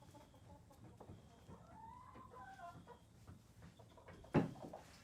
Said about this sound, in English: there's a chicken in this box right now